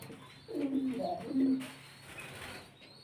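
Pigeons in a loft, a soft, low, close cooing phrase lasting about a second, then quieter background chirps and faint rustling, with no talking.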